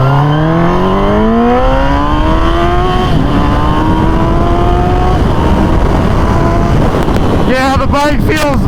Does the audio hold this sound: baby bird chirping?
no